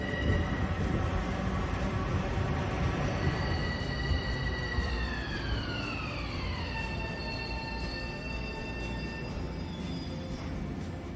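A Long Island Rail Road commuter train rumbles steadily as it pulls into Grand Central Madison station, with a long descending squeal of brakes or wheels, and no voices.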